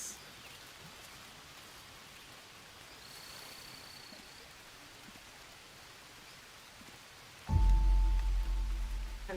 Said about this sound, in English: been raining